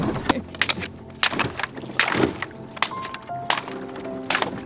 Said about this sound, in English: We keep crashing the ice. We have to break the ice to get anywhere.